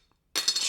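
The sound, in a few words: cheap plastic fake GameBoy keychain rattling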